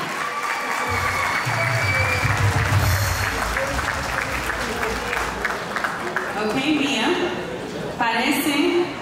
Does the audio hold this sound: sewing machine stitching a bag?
no